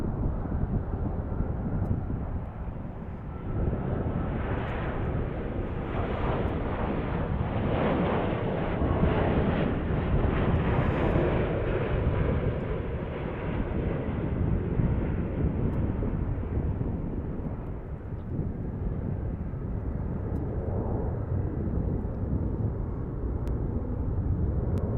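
A Boeing 787 Dreamliner at DFW airport gives a broad, sustained jet roar lasting throughout, swelling and fading gradually as it passes at a moderate distance, with wind noise mixed in.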